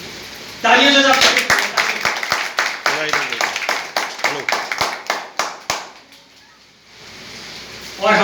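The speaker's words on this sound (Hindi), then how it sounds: "तालियों से सब।" A crowd breaks into lively applause, brisk uneven clapping that builds quickly, then thins out and fades, with a voice over a loudspeaker at the edges.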